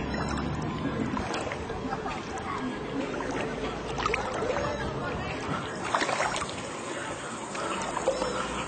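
Small boats move through flood water in a flooded riverside neighborhood, giving a continuous muddled wash of water and motor noise with indistinct voices and talk over it throughout.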